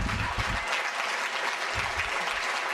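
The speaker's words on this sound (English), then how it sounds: "watching all the people applauding" Audience applauding after a high school wrestling bout between Minneapolis and Beloit, a steady dense wash of clapping throughout with a few louder bursts, heard in a gym setting with no talk over it.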